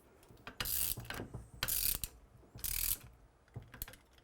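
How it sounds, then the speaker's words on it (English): An Allen wrench tightening a mounting bolt from the back of a 4-inch micro mount for an RCBS Pro Chucker 7 press, heard as three close bursts of ratcheting metal clicks separated by short pauses. "we're going to take the Allen wrench, secure the bolt from the back"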